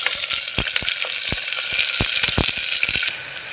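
Ginger garlic paste frying on low heat in a pan for tomato rice, with a steady bright sizzle carrying through and scattered sharp clicks of a spoon scraping and stirring.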